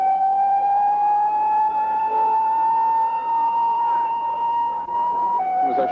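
An ambulance siren at the scene of a shooting of the president wails in a steady, loud, sustained tone, holding its pitch and then dipping briefly near the end.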